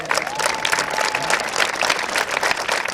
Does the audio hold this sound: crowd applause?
yes